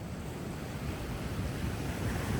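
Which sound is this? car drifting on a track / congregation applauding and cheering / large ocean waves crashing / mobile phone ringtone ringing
large ocean waves crashing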